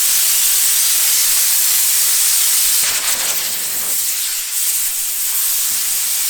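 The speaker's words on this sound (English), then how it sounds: "then start the process of spraying it" A steady, loud hiss of a spray gun painting a car fills the clip, with a brief shift in tone midway as the spray pattern moves across the panel.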